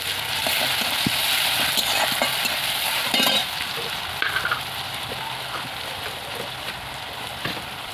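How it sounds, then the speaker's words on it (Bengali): Ground garlic paste fries in hot oil beside browned onions with a dense, continuous sizzle, joined by a few clinks and scrapes of a stirring spoon, near and fairly loud, with no voices. "তো এবারে আমি বেটে নেওয়া রসুনটা ভেজে নেব।"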